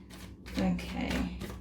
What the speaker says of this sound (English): I've already shuffled the cards, but you know, I always like to go again on camera.